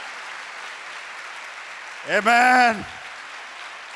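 A congregation claps through a Sunday church service as a steady wash of applause, while a single voice calls out briefly over it.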